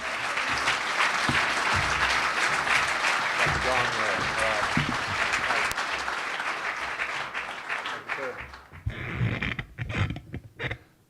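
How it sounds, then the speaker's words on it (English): An audience applauds a congressman at a public event, with steady loud clapping that thins and fades out toward the end as scattered claps and rustling remain. "Let's have a big round of applause for Congressman Mark Sanford."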